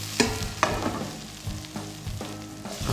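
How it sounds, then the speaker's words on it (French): Halved datterino tomatoes sizzling and frying in oil in a pan, a constant close crackle with a few sharper pops as pieces shift, no voices. "On les dépose dans l'huile et on les fait revenir"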